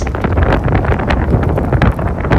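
Strong wind buffets the microphone in a steady, loud roar, with gusty broadband rushing throughout and no voices.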